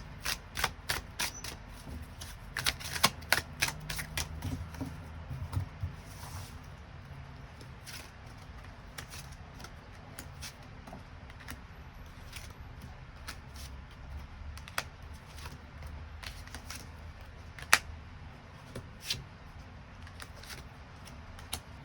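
Tarot cards are shuffled and drawn, giving a rapid run of crisp riffling flicks at first, then sparser soft slaps and slides of cards close by, quiet and without talk.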